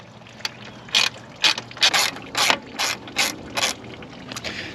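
A ratchet backs out T15 Torx screws on a Jeep headlight bezel, producing close, rapid bursts of clicking, about eight short runs in a steady rhythm with no talking.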